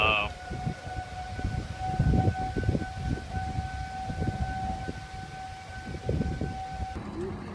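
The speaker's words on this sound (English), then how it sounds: "there was a tornado warning and the sirens were going off." Tornado warning sirens wail in a steady sustained tone, played back from a recording, while people talk and move around over it throughout.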